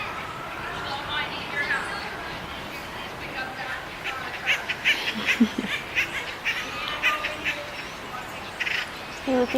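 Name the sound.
birds calling at a nature center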